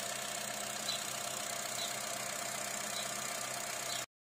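A car engine idles with a steady, even hum and faint mechanical ticking, running smoothly and continuously before cutting off abruptly, after an oil change.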